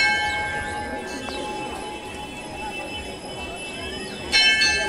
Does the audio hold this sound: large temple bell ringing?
yes